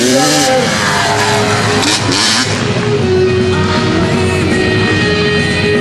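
A freestyle motocross motorcycle engine revs loudly and continuously nearby on a windy day, its pitch rising and falling, with wind and crowd noise mixed in.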